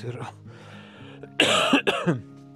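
Someone sick with a cold coughs in two harsh close bursts, near the microphone and following a few spoken words.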